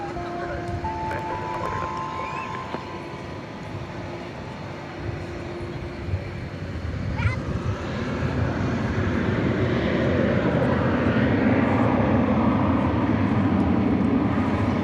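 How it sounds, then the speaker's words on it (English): An American Airlines Airbus A321 bound for Sacramento takes off from DFW Airport at night, its engine roar building from a low rumble to a loud, sustained thrust as a voice talks over the early part. "It's an Airbus A321."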